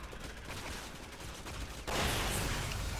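Gunshots in Resident Evil 6 sound as a faint, steady rattle of rapid shots, which turns louder and denser partway through.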